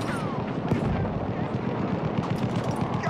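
Battlefield 1 battle with grenade blasts and gunfire, a dense continuous barrage of booms and shots mixed with shouting voices.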